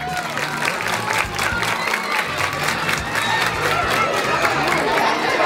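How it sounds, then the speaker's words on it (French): A crowd applauds and cheers at a school quiz-show final in Fanaye, Senegal, a dense, steady wash of clapping with scattered shouts and chatter lasting throughout. "Applaudissez."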